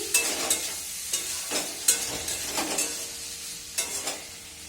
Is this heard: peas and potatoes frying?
yes